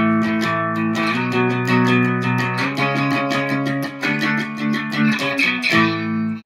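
Electric guitar plays a song's rhythm on the bridge and neck pickups, bright strummed chords moving steadily with a lively, even pulse, close and clear with no voice.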